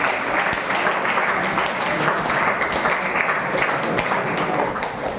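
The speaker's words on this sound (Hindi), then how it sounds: "एक बार जोरदार ताली इन्होंने जिन्होंने किया।" Sustained, loud audience applause in a meditation session, steady clapping from a crowd throughout.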